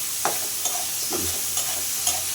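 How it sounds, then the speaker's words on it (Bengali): Potatoes tossed in hot oil with salt in a pan for a potato and prawn curry; a steady sizzle runs underneath while a spatula scrapes through at a regular rhythm, roughly every half second. "তেল লবণ দিয়ে আমি এটাকে সুন্দর করে একটু নাড়াচাড়া করে দেবো"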